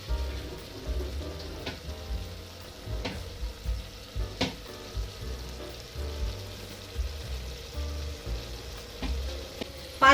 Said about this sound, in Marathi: गॅसच्या मीडियम फ्लेम वरती आपण हे सर्व 5 मिनिटे परतून घेणार आहोत